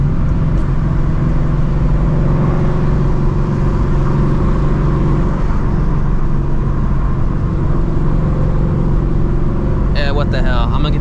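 A Shelby GT350 drives through rain with a loud, steady engine drone and road roar filling the cabin, and a brief burst of voice near the end.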